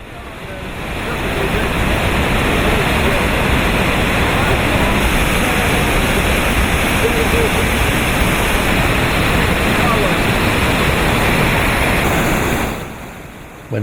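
Loud, steady roar of a waterfall beside a river in Norway, with rushing river spray, constant and close, fading out near the end.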